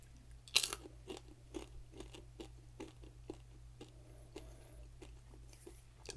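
Crunchy zucchini and tomato vegetable snack chips are chewed close to the microphone, a quiet, irregular series of sharp crisp crunches over a faint low background hum.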